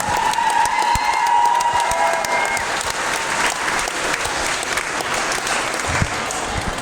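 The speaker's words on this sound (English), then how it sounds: "a big round of applause, of course, for Paul's as well" A crowd applauds steadily at an ice hockey team's kit launch in Nottingham, a dense wash of clapping hands that holds at an even level throughout, with a few faint voices mixed in.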